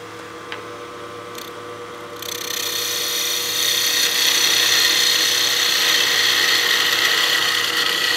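A wood lathe turns a cigar case, a soft hum at first, then rising sharply into a louder, brighter whirring roar as the speed is bumped up. It stays steady and close with no talking.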